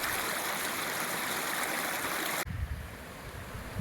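Creek water flowing along the Appalachian Trail in Maryland, a steady rushing stream that cuts off abruptly and gives way to quieter, closer trickling and splashing.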